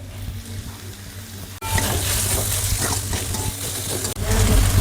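Onions frying in oil in a large pot for a Bangladeshi-style chicken biryani, a steady loud sizzle with faint stirring scrapes, continuous throughout and briefly dipping twice.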